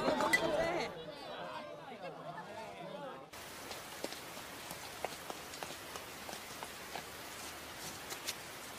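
Rain falls steadily in an anime scene, a soft hiss with scattered drops tapping close by, entering after a brief stretch of other sound and continuing evenly to the end.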